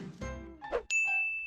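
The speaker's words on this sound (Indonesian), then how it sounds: "SMS udah masuk nih" A phone chimes a short, clear ding for an incoming SMS notification after a moment of soft background sound, and the tone rings steadily for about half a second.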